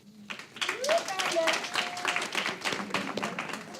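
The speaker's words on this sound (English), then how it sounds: "Hey, you clap for yourself." Scattered applause at a school board meeting for a bus driver, light uneven clapping that swells and fades over a few seconds with people talking over it.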